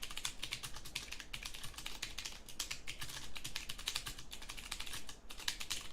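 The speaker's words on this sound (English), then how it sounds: "I can type without looking at it" Steady rapid typing on a computer keyboard, close and continuous, with dense clicking keystrokes in an uneven rhythm and no talking, as someone types a report without looking at the keys.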